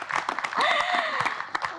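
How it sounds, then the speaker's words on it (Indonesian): A studio audience at a TVRI Central Java public dialogue broadcast gives a short round of applause, a brief burst of scattered clapping with a voice heard over it. "Boleh beri tepuk tangannya."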